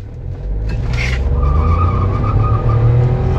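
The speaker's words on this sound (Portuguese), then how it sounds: "saiu patinando e grudando e patinando e grudando" A Chevrolet Tracker with a 1.2 turbo engine accelerates hard from a standstill, its engine roar building loudly as the tires squeal and scrabble for grip, heard from inside the car.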